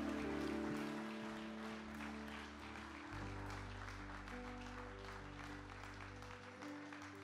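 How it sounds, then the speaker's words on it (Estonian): Quiet applause from an audience at a 2017 church summer gathering, a faint steady patter heard beneath sustained organ-like tones for the whole stretch. "Aplausi."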